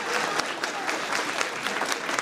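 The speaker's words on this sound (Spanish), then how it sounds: "Un aplauso para estos chicos" An audience gives steady, dense applause for a group of young chamamé musicians at a neighborhood association hall, with the clapping continuous and close throughout.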